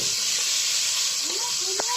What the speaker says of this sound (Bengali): এখন আমরা কিছু পরিমাণ জিরা আর কেটে রাখা পেঁয়াজ, মরিচ আর রসুন দিয়ে এটা একটু ভাজা ভাজার মতো করে নেব।